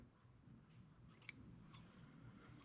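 Scissors cut a composite dubbing loop down the middle while tying an ice fishing jig fly. The snipping is faint and close against a quiet background, with a sharper snip near the end.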